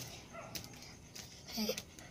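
A dog whimpers and gives a couple of short yips, close to the microphone, with faint background noise and a brief higher whine near the end.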